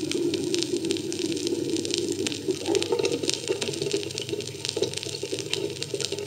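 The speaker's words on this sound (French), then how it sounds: "Les gargouillis des tuyauteries." Water pipes gurgling in a building, a continuous rushing, bubbling flow with small irregular gurgles and splashes, steady and fairly close throughout, no voices.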